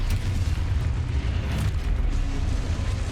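A Confringo blasting spell in the video game Hogwarts Legacy, heard as a dense, rumbling explosive boom with sustained low crackle, loud and continuous across the whole moment.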